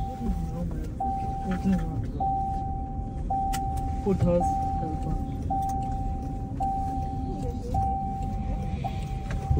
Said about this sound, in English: We continue with driving or riding in this Waymo driverless car in San Francisco